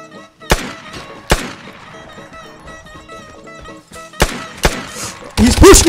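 Single shots from a PM Makarov pistol in the video game Vigor: four sharp, separate cracks at uneven intervals, loud against a quiet background with faint tonal game sounds.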